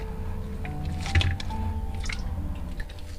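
Soft wet squishing of semolina dough kneaded by hand for manda pitha, gentle sticky presses and squelches at close range over a steady low hum.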